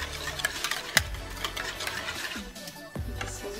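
A spoon stirs butter, buttermilk and an egg into pancake batter in a bowl with soft, close scraping and a few light clinks, one sharper knock near the start, quiet and without speech.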